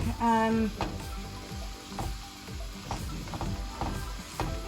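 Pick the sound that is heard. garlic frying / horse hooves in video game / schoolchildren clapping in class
garlic frying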